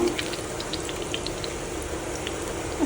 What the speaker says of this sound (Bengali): এদিকে তো বেগুন ভাজি হইল